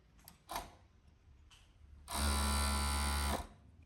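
A sewing machine stitches a seam on a shirt in one steady, loud whirring run of about a second, preceded by a few soft knocks and handling sounds up close.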